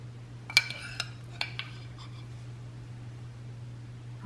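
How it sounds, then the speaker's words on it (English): Metal utensil clinking against plates while avocado is scooped on top in a kitchen: a few light taps and scrapes in the first two seconds over a steady low hum, then near quiet. "I'm gonna take some of our avocado and just put a little scoop on top of each one of the"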